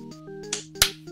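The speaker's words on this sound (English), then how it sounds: "That was the sound of us high-fiving." Two people slapping hands in a high five, a quick, sharp smack preceded by a softer tap, heard over quiet tonal game music.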